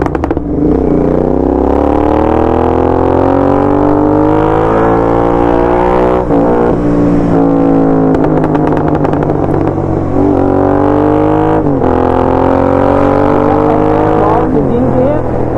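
Royal Enfield GT 650 twin with a Code 6 Stage 2 tune, full exhaust system and swapped air filter, revving loudly and repeatedly, engine pitch climbing and dropping in several strong rising sweeps with brief throttle blips between.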